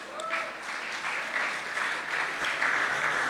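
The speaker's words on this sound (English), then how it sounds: "Give them a round of applause" A round of applause from the audience at a Tulsa mayoral candidates debate, a steady, moderately loud crowd clapping that fills the whole stretch.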